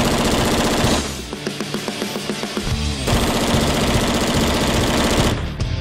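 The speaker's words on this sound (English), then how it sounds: "We'll run like maybe 10 magazines in a row on full automatic." HK416 assault rifle firing on full automatic, a loud, close, rapid string of shots in sustained bursts with a short break, harsh and continuous.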